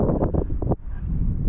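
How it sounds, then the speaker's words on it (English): Wind gusting across a small remote pond, a steady low rushing and buffeting that carries on throughout, with a brief lull partway through. "now you guys can believe me that the wind is picking up."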